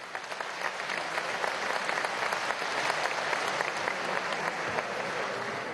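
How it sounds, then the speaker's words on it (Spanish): Steady applause from a group claps continuously throughout, moderately loud and even. "Aplaude, aplaude, Trujillano."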